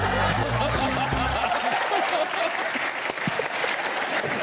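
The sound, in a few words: TV studio audience applauding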